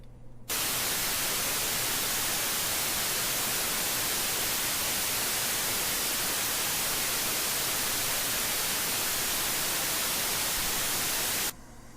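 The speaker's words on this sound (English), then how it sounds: "so if I generate some white noise, I've got a generator here, so I can create some white noise" Generated white noise played back as a loud, steady, broadband hiss that starts abruptly after a brief quiet moment and cuts off sharply near the end.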